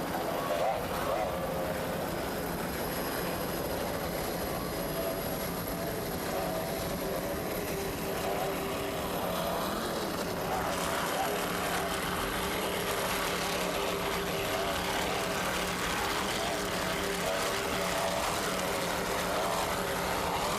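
A 29-foot offshore racing powerboat with two 420-horsepower Bandit racing engines built by Kurtz Marine runs in a Virginia Beach race, a continuous loud droning roar under a commentator's voice.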